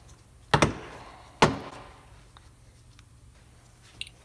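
Plastic clips pop loose as a rear door panel on a 2016-2020 Honda Civic is pulled away, two sharp snapping cracks close together, then quiet with a faint click near the end.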